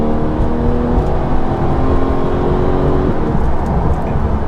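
A Porsche 991.2 GT3 flat-six engine drives on a slippery, greasy road in PDK Sport with manual shifting, a loud, steady rasping drone with rising pitch heard from inside the car.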